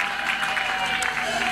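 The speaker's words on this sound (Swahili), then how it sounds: "Pigia Bwana makofi yanayotoka vizuri." A church congregation clapping hands together in worship, a dense steady round of applause under a speaking voice, sustained and fairly close.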